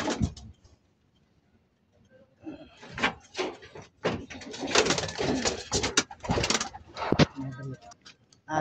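A racing pigeon coos and then flaps away, soft close calls giving way to a burst of wingbeats and rustling, with a person speaking briefly in the background.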